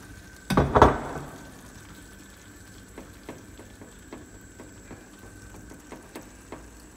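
Merguez sausages hit a hot pan with a loud burst of sizzle, then settle into a quieter steady frying crackle punctuated by regular soft ticks and pops.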